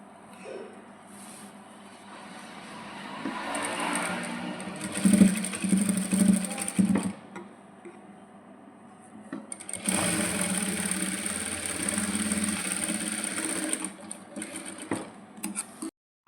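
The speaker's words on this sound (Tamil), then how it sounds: "ஓவர்லாக் போட்டுட்டேன்" Overlock sewing machine stitching a maxi dress seam, running in two bursts of fast whirring with a pause of quiet handling between them.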